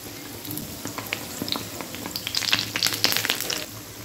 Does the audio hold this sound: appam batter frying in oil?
yes